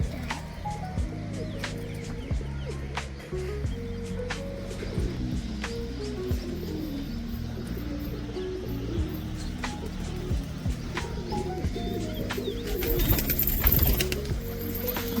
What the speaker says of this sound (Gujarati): આટલા કબૂતર છે આપણીમાં.